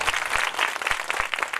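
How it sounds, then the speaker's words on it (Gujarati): An audience applauds at a religious gathering in Gujarat, a brief burst of dense, continuous hand clapping close by. "સાહેબ જોરદાર તાળીઓ વધાવો"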